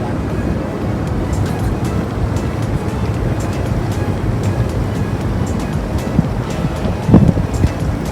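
Tour boat cruising on the Chicago River: steady broadband rumble of engine and water with wind noise on the microphone, continuous and fairly loud, with a brief thump near the end.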